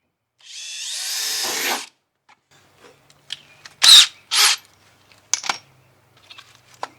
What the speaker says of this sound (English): Go back to the little drill bit.